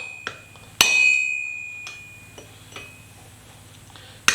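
A hammer strikes a chisel cutting spring steel from a coil spring on an anvil cutting plate, giving sharp metallic clanks with a long ringing tail after the loudest blow and a few lighter taps between.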